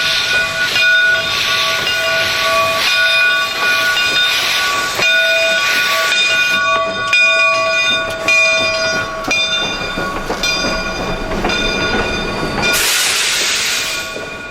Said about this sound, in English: number 401 passes through the yard